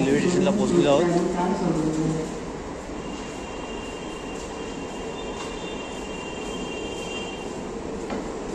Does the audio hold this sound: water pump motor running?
no